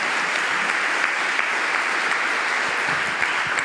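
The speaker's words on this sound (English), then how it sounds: "yeah, let's applaud that." Audience applause at a community talk on belonging and othering, a steady, even roar of many hands clapping at moderate distance with no voices over it.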